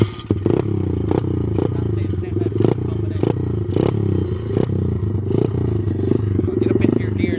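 A Welsh Pit Bike 125cc motorcycle idles and revs close by in a loud, uneven, choppy drone with repeated clattering bursts, while a voice talks over it.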